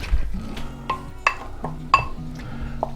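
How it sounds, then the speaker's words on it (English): Salt being stirred into a spinach and artichoke dip, with a utensil scraping and clinking against a bowl in a few distinct knocks over a low background hum. "Now let's stir these in."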